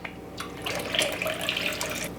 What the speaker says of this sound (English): And I'm gonna add a little bit of chicken stock.